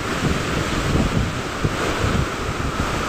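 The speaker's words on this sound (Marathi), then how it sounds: "त्या पाठी ना ते मोठे लाट येत आहे ना" Large waves rolling in near the Konkan shore beside a small homestead, a continuous loud roaring wash with occasional thumps of breaking water, heavy wind noise on the microphone and no speech.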